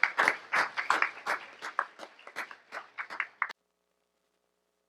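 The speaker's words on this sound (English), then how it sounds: "So we want to give all of you a round of applause." A small audience of parents and families claps for about three and a half seconds. Individual claps stand out close and uneven before cutting to silence.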